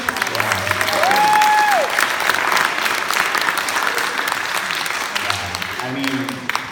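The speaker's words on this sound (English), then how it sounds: "one more round of applause" Sustained audience applause at an LGBTQ+ storytelling event, a dense steady wash of clapping with a few cheers rising over it, slowly fading toward the end.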